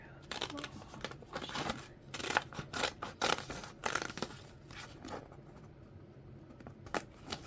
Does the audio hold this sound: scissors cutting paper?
yes